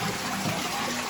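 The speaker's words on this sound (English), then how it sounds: "Nice big flush on that." A toilet flushes with a full tank of water, a steady loud rush of water filling the bowl throughout without a break.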